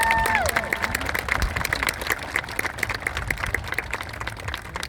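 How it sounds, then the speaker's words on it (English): Audience applause at a school event honoring teachers, a dense, steady wash of many hands clapping that fills the whole stretch, with a brief tonal sound at the start and light crowd noise underneath. "A big round of applause."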